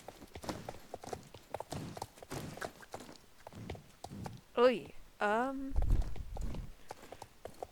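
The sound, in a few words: horse hooves trotting in Star Stable video game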